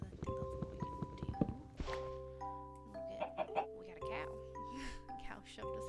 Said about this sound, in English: Hello, little chicken.